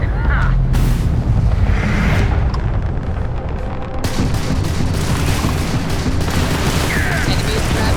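Spaceship weapons firing in the Starfield video game, loud rapid bursts of blasts and booms that continue without a break, with dense crackling impacts and brief voices mixed in.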